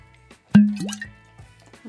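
Crowded Barrel Eleanor bourbon whiskey splashing out of a bottle into a glass, a single sudden plop followed by a brief glugging pour that fades, then faint rattling nearby.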